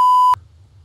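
A loud censorship bleep, a single steady pure tone lasting about a third of a second, then cutting off abruptly to quiet low hum.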